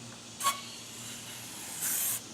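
HVLP spray gun loaded with lacquer, its adjustment knob turned fully open, giving a short hiss burst near the start and a longer, louder hissing burst near the end over a low steady background hum.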